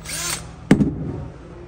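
A powerful one-horsepower drill cuts a hole through a bed frame: a single short, loud burst of grinding that quickly fades into quieter background noise.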